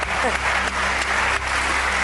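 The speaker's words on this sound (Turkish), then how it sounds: "Vay alkışlayalım o zaman" A studio audience applauds loudly and steadily during a Turkish world-records television show about a woman rolling up a frying pan, with voices talking over the clapping.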